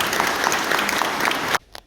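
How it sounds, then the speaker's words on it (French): An audience at the opening of an Algerian War exhibition in Tarbes claps for about a second and a half, a full roomful of applause that cuts off abruptly, leaving a couple of stray claps. "Donc je vous remercie de leur accorder au moins 6 secondes d'applaudissements."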